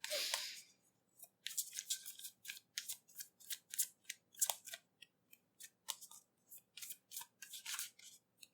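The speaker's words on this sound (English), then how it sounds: "You can skip the shuffling if you want." Tarot cards are shuffled by hand in a quick series of crisp, papery riffles and snaps. The short bursts come close and fairly quiet, with a few brief pauses between them.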